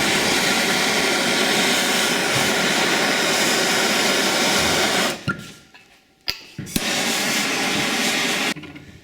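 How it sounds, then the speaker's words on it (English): A grinder cuts a bearing off a dirt bike's inner shaft, a loud sustained whine and roar that runs steadily for about five seconds, then drops away with a few clanks before the grinding resumes near the end. "We're gonna grind the bearing off."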